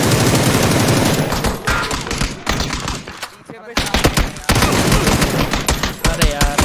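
Loud, rapid bursts of gunfire from the video game PUBG rattle almost continuously, with one short lull before the shooting resumes, while a player talks over it.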